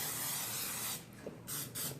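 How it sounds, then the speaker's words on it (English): Cooking spray hisses in sustained bursts as it coats the sides of a casserole dish for a broccoli casserole, with a couple of short pauses between sprays. "So I'm just going to spray the sides good."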